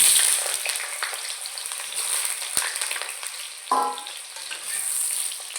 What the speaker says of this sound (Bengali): প্রথমে আমি মাংসর আলুগুলো ভালো করে ভেজে নেব ছেড়ে দিচ্ছি আলু